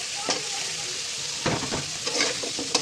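Potatoes and flat beans frying in a turmeric and chili spice masala, hissing steadily in the pan with bursts of louder sizzle and scraping as they are stirred, close up.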